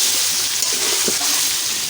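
Water is poured into a cooking pot of dried ribbonfish curry with jackfruit seeds, sweet pumpkin and Malabar spinach stems, giving a steady, close splashing rush that lasts throughout with no pause.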